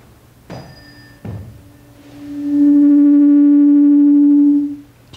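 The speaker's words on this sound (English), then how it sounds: "When two frequencies are very close together, they add rhythmically, both constructively and destructively. The result is called beats." Two tuning forks, one cold and one warmed, close in pitch, struck one after the other and then sounding together: two short knocks with ringing tones, then a loud sustained pure tone throbbing with slow beats before fading out, no speech.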